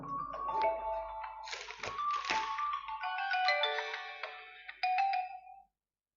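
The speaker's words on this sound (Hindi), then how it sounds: "सॉरी मोबाइल बज गया" A mobile phone ringtone goes off in a bright melodic pattern of chiming tones that repeats for several seconds before cutting off, fairly close with no one speaking over it.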